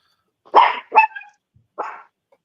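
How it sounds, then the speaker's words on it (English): A dog barks three times, loud and close, two quick barks then a pause before a third, with silence between. "Whose dog is that?"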